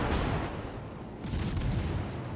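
Naval guns firing shells in the World of Warships video game, heard as heavy, distant-sounding booms that roll into a dense rumble and then swell again partway through.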